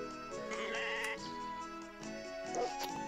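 A sheep in the Harvest Moon 3D farming game bleats several times in a row, clear and close, with no talking over it.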